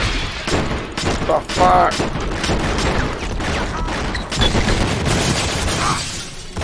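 Gunfire from a weak gun in the 2003 video game Enter the Matrix, rapid bursts of shots popping close and loud amid combat noise, with someone talking briefly over it.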